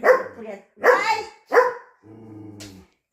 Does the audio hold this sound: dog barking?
yes